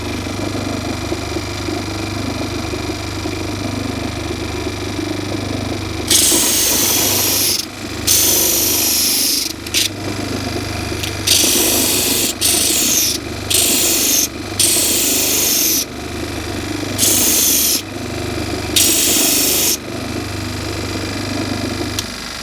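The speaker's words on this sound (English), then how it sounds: "So I'm just going to show you how to sand a little piece of wood safely." A small power sander or spinning machine sands a little piece of wood in a shed workshop, with repeated loud bursts of grinding contact over a steady motor hum, each burst lasting a second or two.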